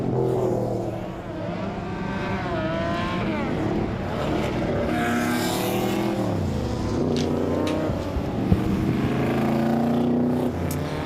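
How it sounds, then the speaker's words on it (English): Group S sports cars race past on a track at a motor racing event, engines revving and shifting with rising and falling whines as cars approach and pass, a loud continuous mechanical roar with overlapping vehicles. "Group S cars on track now"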